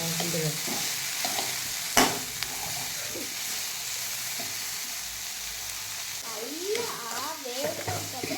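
Sliced onions fry with salt in a pan while being stirred, a close steady sizzle with a sharp utensil knock near the start and scraping stir sounds, a voice speaking briefly near the end.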